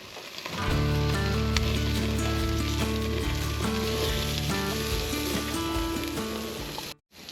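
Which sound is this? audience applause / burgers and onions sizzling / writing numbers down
burgers and onions sizzling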